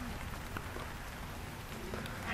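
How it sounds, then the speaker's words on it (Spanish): Steady rain falling and pattering on surfaces, a constant dense hiss with scattered drop ticks, no voices. "Aquí está buena la lluviecita, está lloviendo."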